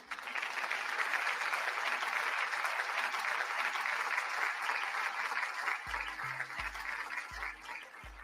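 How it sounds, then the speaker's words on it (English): Applause, a dense, steady burst of many hands clapping, fairly loud and continuous, with low musical tones entering near the end. "let's give them a round of applause"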